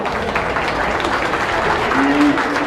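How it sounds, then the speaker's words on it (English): Steady applause from a crowd at a county beef show ring, a continuous wash of clapping with some chatter mixed in, holding at an even level throughout. "So let's give this young lady a round of applause."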